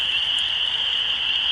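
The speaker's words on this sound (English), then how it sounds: "The noise outside is absolutely deafening from the frogs." A dense, loud chorus of frogs croaking at night beside a stealth campsite, a steady shrill trill with no pauses, close and enveloping, with nothing else cutting through.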